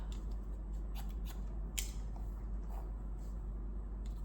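Quick, crisp snips of scissors cutting hair, a handful of close, light clicks scattered over a steady low background hum.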